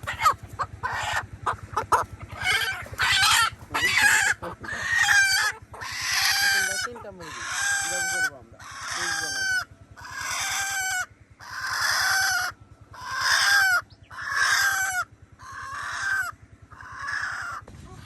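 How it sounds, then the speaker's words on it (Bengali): Native desi chickens cluck and crow loudly and close, in a long run of repeated calls with short gaps between them, over a low steady background hum. "দেখুন কত সুন্দর দেশি মুরগি"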